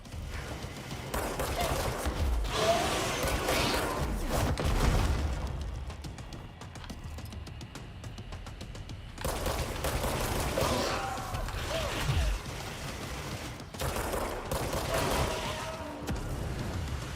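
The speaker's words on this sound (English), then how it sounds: "How are you shooting me from over there?" Gunshots aimed at the player in a video game crack in repeated bursts, some distant and some close, along with booming impacts and a frustrated player talking.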